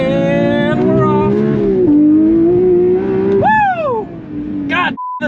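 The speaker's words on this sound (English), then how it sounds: "Leave it in first, hit limiter a little bit. And foot to the floor." A Porsche 992 GT3 launches at full throttle in first gear, its engine wailing loud and rising steadily toward the limiter, then a sharp rev sweep before a quick gear change and a brief cut.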